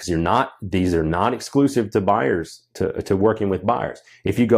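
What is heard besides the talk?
None of the usual background noises is heard.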